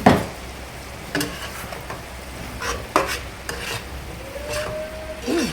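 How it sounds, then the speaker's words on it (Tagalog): Chicken stirred in a pan with bird's eye chili and oyster sauce, with a steady sizzle under repeated scraping strokes and clinks of a utensil against the pan, fairly close and loud. "Tapos, ihalo ang siling labuyo."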